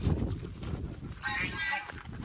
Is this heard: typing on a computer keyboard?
no